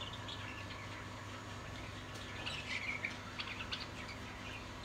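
Faint, high chirps and tweets of chicks calling from a nest in a reed-bed reserve, in short scattered bursts over a quiet, steady hum of background noise.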